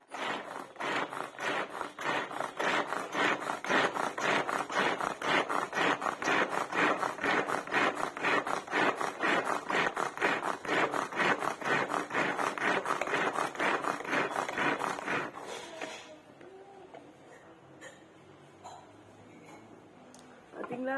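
Ingredients are ground by hand with a steady, rhythmic rasping scrape repeating quickly for about fifteen seconds, close and fairly loud, then stopping abruptly into quiet room noise.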